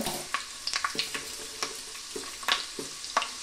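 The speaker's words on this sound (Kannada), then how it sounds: "ಸೊ ನಿಧಾನವಾಗಿ ಶೇಂಗಾವನ್ನು ಹಾಕೊಳ್ಳಿ. ಗ್ಯಾಸನ್ನು ಆಫ್ ಮಾಡಿದ್ರೆ, ಯಾಕಂದರೆ ಎಣ್ಣೆ ಭಾಳ ಕಾಯ್ತಾ ಇದೆ" Peanuts drop into very hot oil on a gas stove that has just been turned off, while palav is being cooked. Sharp, scattered crackles and pops come close and fairly quiet over a soft sizzle, with no voices.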